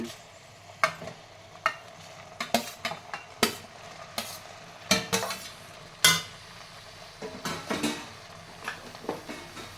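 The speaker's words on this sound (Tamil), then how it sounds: "இப்போ இது போட்டு நல்லா மிக்ஸ் பண்ணிக்கலாம்" A spoon clinks and scrapes against a plate while tomato rice is mixed, giving a string of irregular sharp taps and soft scuffs, close by and without speech.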